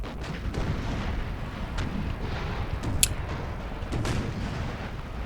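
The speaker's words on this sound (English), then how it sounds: "All these cannons are just shooting into" Cannons firing in Napoleonic Total War 3, muffled distant booms over a steady rumbling battle din, with a sharper crack near the middle.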